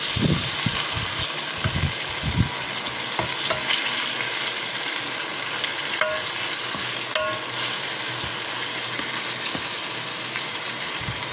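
Vegetables sautéing in a hot pan, a steady loud sizzle with a smoky, crackling wash throughout, plus a few spatula scrapes and stirring clatters early on, close and continuous.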